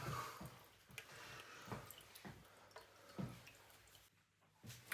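The last water left in household pipework drips out in faint, irregular drops and small splashes, each drop distinct against a quiet background.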